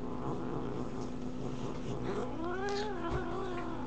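A cat growls and caterwauls in a low, continuous rumble that rises into a wavering, drawn-out yowl near the end, close and fairly loud against a steady background hum.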